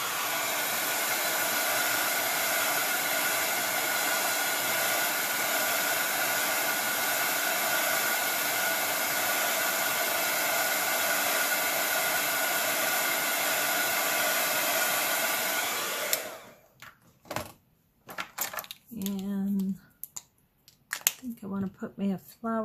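A hair dryer blows steadily and loudly while drying a handmade rock fairy house, a continuous whir for about sixteen seconds before cutting off, followed by brief handling noises and some talking.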